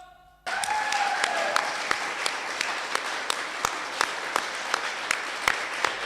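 Audience at a Krackup Lab comedy night applauding and cheering the winner, a sudden burst of sustained clapping with whoops and sharp peaks that carries on loud and steady for several seconds.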